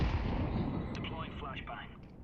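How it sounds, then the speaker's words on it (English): A grenade explodes in a video game, a loud, close blast that fills the clip with a heavy rumbling roar slowly fading over about two seconds, while a voice is faintly heard beneath it. "Incendiary out. Grenade out."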